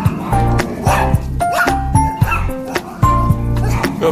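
A reactive dog on a leashed walk gives repeated close yips, whimpers and short barks in uneven bursts, with someone speaking to it between them.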